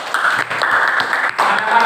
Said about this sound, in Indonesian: tepuk tangan untuk pengusaha